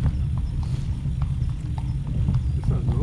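Horse hooves clip-clop on pavement at a steady walking rhythm, moderately close, over a low rumbling background.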